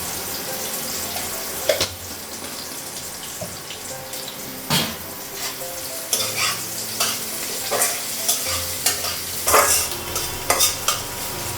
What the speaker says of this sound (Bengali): পেঁয়াজটা একটু ভেজে নিব, কালো জিরে দিব